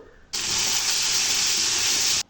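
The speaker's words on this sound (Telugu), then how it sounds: "ఎండుమిర్చి, కరివేపాకు వేసుకొని తాలింపు వేసుకోవాలి." A loud, sudden hiss of dried red chillies and curry leaves hitting hot oil for a tempering, holding steady for about two seconds and then cutting off sharply.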